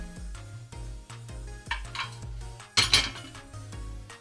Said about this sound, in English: Don't worry about the dishes, Skye.